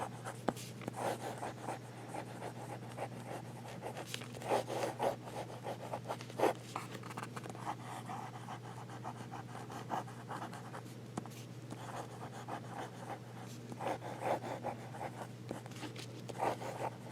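A Hinze Phoenix fountain pen writes on A5 dot grid paper, a soft continuous scratching with irregular strokes and brief pauses, faint and close against a steady low hum.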